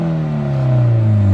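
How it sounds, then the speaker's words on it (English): A 1995 Mazda Miata with an aftermarket straight-pipe exhaust revving up close, its buzzy engine tone rising steadily and growing louder over about a second and a half. "give it some revs"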